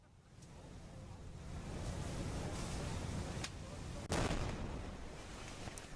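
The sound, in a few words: explosion of molten titanium and magnesium in a warehouse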